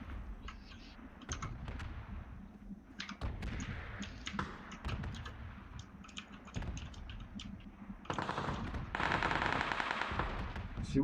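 Gunfire and bombardment in an online shooter video game, with rapid bursts and heavier blasts at close range and distant shots mixed with keyboard clicking and brief team chatter.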